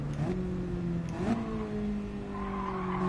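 A car slides into a handbrake skid in GT Sport, long tire squeal tones riding over steady engine drone, a second squeal rising partway through and holding to the end, loud and close with no talk.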